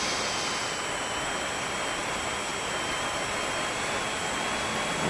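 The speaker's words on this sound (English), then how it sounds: "Just let the plane progress out there." A model plane in flight on an antenna range test, its engine a steady, loud, unbroken whine and rushing hiss with a constant high tone and no voices.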